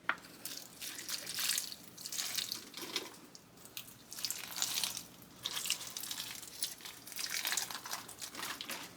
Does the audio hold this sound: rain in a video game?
no